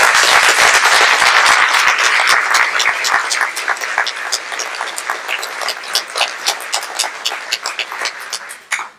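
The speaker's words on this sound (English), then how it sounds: "let's give them another round of applause" An audience at a town celebration gives a round of applause, dense and loud at first, then thinning into scattered individual claps that fade out toward the end.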